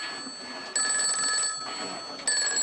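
A telephone bell rings in loud, shrill bursts on a stage set, with two clear rings separated by a brief lower pause, sounding close and bright.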